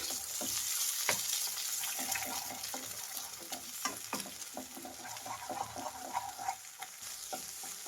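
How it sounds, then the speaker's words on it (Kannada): Three beaten eggs fry in hot oil in a pan for egg rice, giving a steady close sizzle broken by frequent scraping and stirring clicks from a spatula, with no talking. "ಮೊಟ್ಟೆ ಹಾಕ್ತಾ ಇದ್ದೀನಿ. ಮೊಟ್ಟೆನ ಹುರಿಬೇಕಾಗತ್ತೆ, ಚೆನ್ನಾಗಿ ಹುಡಿಯಾಗಿ ಹುರಿಬೇಕು."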